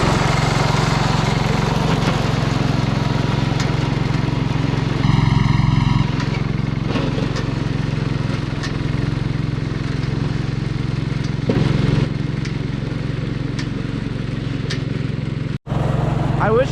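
John Deere 110 lawn tractor engine running steadily while plowing snow, a loud continuous low drone with scraping and movement noises over it.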